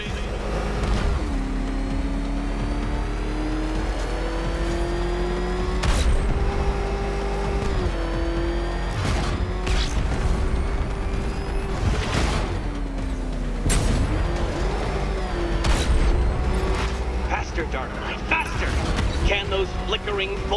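The Batmobile in Batman: Arkham Knight roars continuously, its engine pitch sliding up and down with revs while afterburner bursts and crashing impacts punch through, loud and dense throughout, with a voice speaking over the din.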